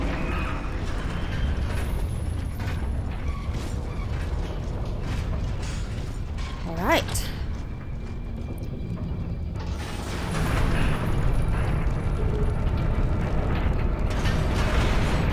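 Lever mechanisms worked in the Gears of War 2 game, mechanical clanks, ratcheting and creaking gears with a rising squeal midway, fairly close, and a brief spoken voice.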